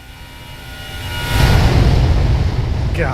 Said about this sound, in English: There's acceleration altitude. Nice thrust reduction sound.